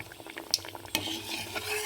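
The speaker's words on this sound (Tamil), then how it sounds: "நல்லா நம்ம பிஸ்கட் வந்து நல்லா காஞ்ச எண்ணெயில் போடணும்" Soft, steady sizzling of wheat dough frying in hot oil with faint clinks and stirring scrapes, a sharper clatter near the middle; no talking.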